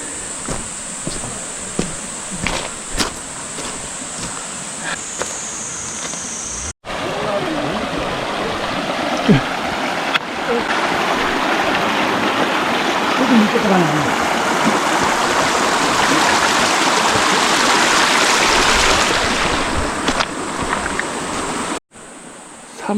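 Steady broadband rush of a flowing mountain stream near waterfalls in a valley at Naeyeonsan, Pohang, loud and continuous, with insects buzzing nearby and a brief break partway through.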